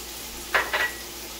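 Shallots hit a pan in two quick bursts of frying hiss, short and fairly close over a quiet background, as for a Guyanese yellow squash with shrimp dish.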